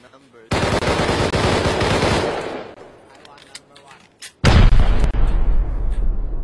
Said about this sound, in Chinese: 这一 发 RPG 出来了